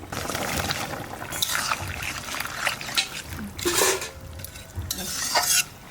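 Tender pumpkin stems and tips go into a boiling katla fish curry, bringing a burst of sizzling and bubbling, with stirring scrapes and clinks of a utensil against the pot, loud and close.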